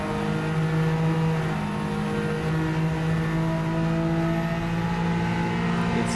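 A Honda N-One RS racing in Gran Turismo 7 holds a sustained high engine drone with steady harmonic whine, revving hard at near-constant pitch, loud and close with no talking.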